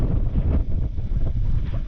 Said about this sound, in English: It's a bit rainy and windy